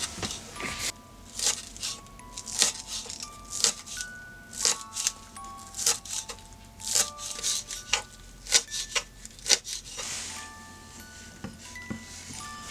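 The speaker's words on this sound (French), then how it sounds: "je coupe quelques oignons frais en petits morceaux" Green onion tops being chopped into small pieces with a knife on a board, irregular crisp cuts and taps in quick bursts, close and moderately loud with no talk.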